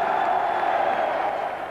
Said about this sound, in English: Local hero Shane Warne's appearance as night watchman brought rapturous applause.